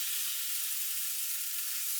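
A sea bream fillet fries skin-side down in a hot pan, a loud, dense, steady sizzle heard up close and alone.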